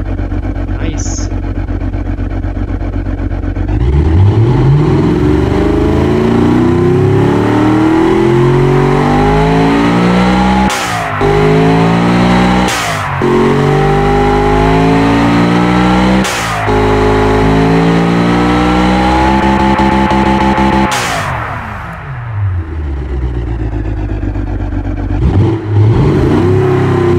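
A turbocharged 600-horsepower car engine with a 12.0:1 compression ratio revs hard and loud, its pitch sweeping up and down through repeated throttle blips over roughly twenty seconds before dropping back to a rumbling idle.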